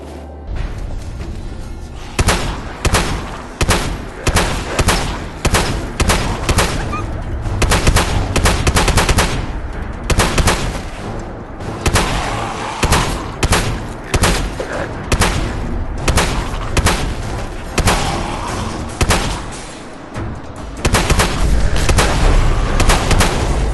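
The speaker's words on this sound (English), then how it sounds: "I'll be shooting off a bunch of zombie limbs, so watch out for that" Rapid, loud bursts of gunfire while shooting zombies in the Fallout 4 video game, with repeated volleys and booming shots hammering almost without pause throughout.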